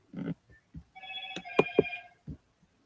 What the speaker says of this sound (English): forgive my phone in the background